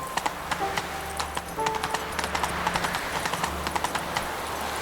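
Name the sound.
Roach the horse galloping, hooves clip-clopping, in video game The Witcher 3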